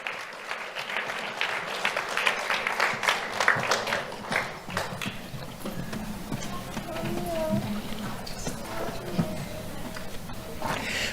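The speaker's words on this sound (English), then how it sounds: "Let's have a round of applause for Benjamin." An audience at a youth awards ceremony claps for an honoree. A full burst of applause gradually thins into scattered claps, with low murmuring voices and shuffling underneath as it winds down.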